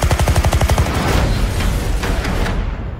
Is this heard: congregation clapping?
no